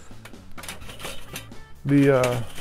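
Ash being shaken out of a charcoal basket in a Weber kettle grill, with clattering metallic rattles through the first half and a louder burst of scraping, jangling metal near the end.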